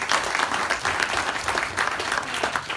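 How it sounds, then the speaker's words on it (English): Loud, dense applause from the audience at a city council candidates' forum, many hands clapping together in a continuous close roar without any talk over it. "And now you can clap."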